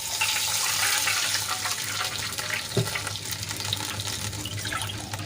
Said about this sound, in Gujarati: તો હવે એમાં આપણે પાણી એડ કરીશું